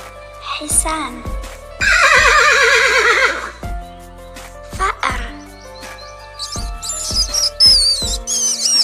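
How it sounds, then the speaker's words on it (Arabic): A horse neighs loudly with a long, quavering whinny in the middle, surrounded by shorter snorts, sharp knocks and higher chirping sounds. "حصان"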